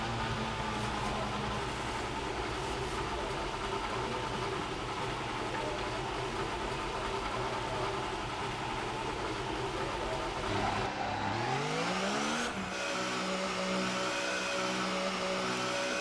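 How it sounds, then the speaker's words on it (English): Formula 1 car engine in the F1 2018 racing game running loud and steady, then rising sharply in pitch as it revs up partway through, a constant dense mechanical drone throughout. "Engine fired. We're set."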